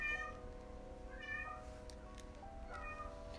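A cat meows several times in drawn-out, plaintive cries, close by, with short pauses between calls and no talking.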